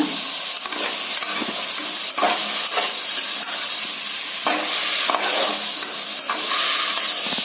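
Carrots, beans, potatoes, peas and cauliflower are stirred in hot oil for a white vegetable kurma, a constant sizzle broken by repeated scraping strokes of a spoon against the pan, close and fairly loud.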